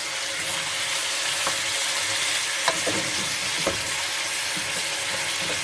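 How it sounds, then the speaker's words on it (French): Steady sizzling of pork tenderloin browning in a saucepan, with occasional scrapes and clicks of a utensil stirring; continuous and fairly loud, no voices. "On va laisser dorer en remuant pour que cela n'accroche pas dans la casserole."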